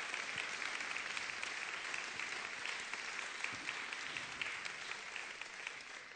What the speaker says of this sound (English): This applause is to Cookie Roberts